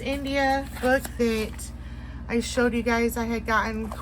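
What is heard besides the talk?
None of the usual background noises is heard.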